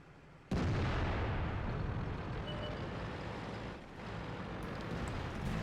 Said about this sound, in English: Here's that artillery.